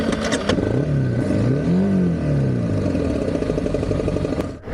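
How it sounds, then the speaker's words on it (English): A motorcycle with a burnt clutch revs hard, its pitch rising and falling over a rough, clattering engine note. The sound is loud and close, then ends in a brief thump. "The motorcycle did not sound normal anymore."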